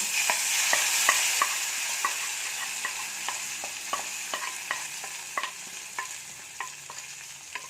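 A hot curry-leaf tempering is poured into curry and crackles in a bright sizzle, followed by a run of sharp pops and clicks that slowly fade, with no voices over them.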